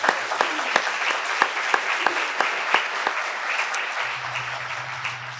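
Audience applause after a memorial lecture on substance use disorder, a steady wash of clapping hands with sharp individual claps standing out, fairly close and sustained throughout.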